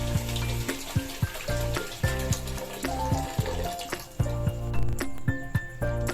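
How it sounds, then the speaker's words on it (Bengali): Water goes into a pot of fried onions for chicken biryani, a loud rolling sizzle and bubbling hiss with clattering knocks against the pot, close up. "এবার ওই বেরেস্তার মধ্যে আমি দিয়ে দেবো বেশি পরিমাণে জল।"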